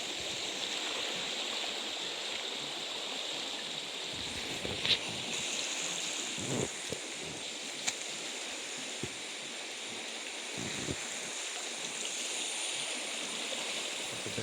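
Muddy, rain-swollen water rushing through a village stream, a steady broadband wash that stays near and constant throughout, with a few brief splashes standing out.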